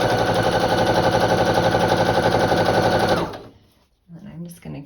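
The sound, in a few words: sewing machine sewing quilt block pieces together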